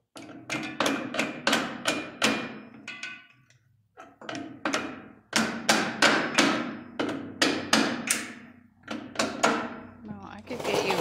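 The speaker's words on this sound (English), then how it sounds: "Nothing like using a hammer twice the size of what I need" Oversized hammer pounding steel parts of a homemade rolloff truck's rear axle, loud ringing blows in quick bursts of several strikes with short pauses, close up; a voice speaks briefly between hits.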